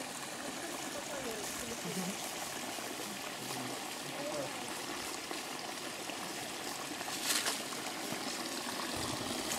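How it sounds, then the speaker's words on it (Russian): Water from a spring in a forest near Stavropol trickles and burbles steadily at moderate distance, a continuous watery wash with faint outdoor background and no speech. "Вот такой здесь есть родник."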